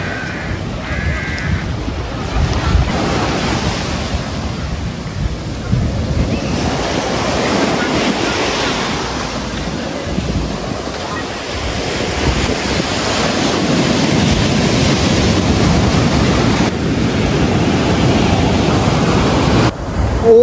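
Ocean waves surge and wash onto the sand at Om Beach in Gokarna, with a steady, loud roar of surf and gusting wind buffeting the microphone throughout, local boats parked nearby.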